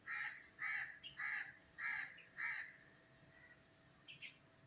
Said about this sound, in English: all the birds are singing around